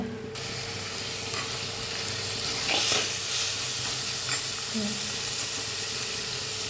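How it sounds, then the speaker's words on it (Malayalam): Sliced onions sizzle steadily in hot coconut oil, with occasional scrapes of a spoon stirring the pan and a faint voice in the background. "ഉള്ളി ചേർത്ത് നന്നായി ഇളക്കി കൊടുക്കാം"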